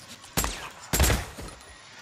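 Gunfire in the video game Days Gone comes as two sharp, loud bursts about half a second apart, each trailing off with a short echo, followed by fainter rattles.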